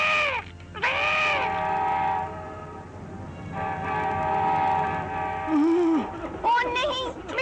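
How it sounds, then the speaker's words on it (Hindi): Cartoon train bearing down on a railway track where a stalled tractor sits, sounding long sustained horn blasts with a rumbling, clattering run of wheels beneath, loud and close throughout. "ओ नहीं, मिठू, रेल, अब क्या करेंगे?"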